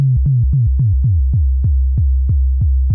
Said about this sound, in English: you start to get a little bit of that click at the start of that note.